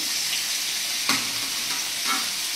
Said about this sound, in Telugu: కడాయిలో ఒక 1 టేబుల్ స్పూన్ నూనె పోసుకొని దాంట్లో ముక్కలుగా కట్ చేసుకున్న టమాటా ముక్కలు, ఇది కాజు, 2 బాదాము